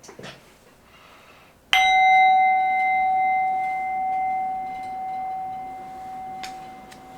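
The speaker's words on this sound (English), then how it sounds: "there'll be 1 bell to signify the beginning" A single meditation bell marks the start of a session, struck once and ringing clearly before fading slowly over several seconds, after faint rustling.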